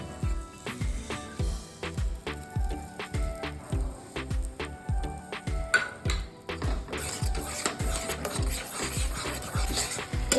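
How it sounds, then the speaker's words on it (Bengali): Tomato paste for a Bengali shorshe pabda fish curry is sautéed in a pan, with a spatula scraping and rubbing in a steady rhythmic back-and-forth. The stirring is close and fairly loud, and a brighter sizzle rises near the end. "ভালো করে আমি একটু টমেটোটা 2 থেকে 3 মিনিট কষিয়ে নেব"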